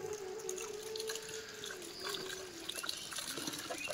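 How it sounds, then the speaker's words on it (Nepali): Water trickles continuously in a stream beside a village house among farm fields, a faint, steady gurgle with a thin tone threading through it. "घरकै छेउमा निरन्तर बगिरहने पानी"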